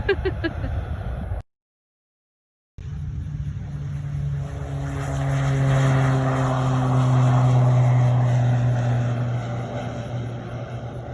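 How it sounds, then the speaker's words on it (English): A propeller airplane roars past, its engine drone swelling loud and then fading, after a brief silent gap near the start. "You get a front row view of these planes taking off all day."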